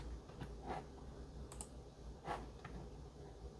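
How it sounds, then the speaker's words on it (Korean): The F5 key on a computer keyboard is pressed, giving a few faint, sparse clicks spaced irregularly over a quiet room background, near and soft, with no voices. "이거를 F5를 눌러서 저장을 해볼게요."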